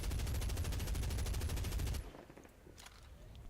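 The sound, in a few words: M4 carbine gunfire in the video game Medal of Honor Beta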